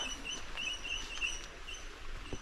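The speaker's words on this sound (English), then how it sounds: "the birds are up." Birds call at dawn beside a river at a campsite near Perth, a faint scatter of short chirps and quacking notes over a quiet outdoor background.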